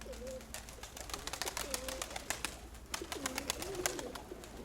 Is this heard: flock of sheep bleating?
no